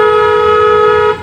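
A car horn gives one loud sustained honk lasting about a second, heard from inside the car during a driving lesson in traffic, then cuts off.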